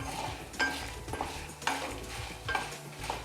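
Ajwain seeds roasting dry in a pan turning golden, with repeated stirring scrapes and a soft sizzle, steady and close throughout.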